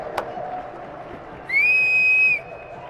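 A single clear, sustained whistle from one person rings out at a Saturday night race event, briefly rising above a murmuring crowd.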